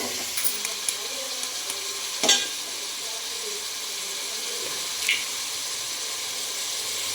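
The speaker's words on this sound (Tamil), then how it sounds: "ஃப்ரைட் ரைஸ் தேவையான முட்டை வந்து உடச்சி ஊற்றிக்க போகிறாங்க." Egg cracked and poured into fried rice in a hot pan, giving a steady, close sizzle with scraping stirring and a couple of brief clinks.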